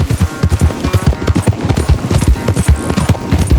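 A horse gallops during a race in the video game Red Dead Redemption 2, its hooves beating a rapid, close, continuous rhythm, loud and steady throughout.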